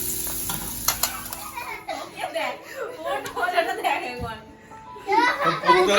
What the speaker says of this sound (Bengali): ভেজে আবার বাবারে এদিকে ভাজা হচ্ছে এখন পেঁয়াজ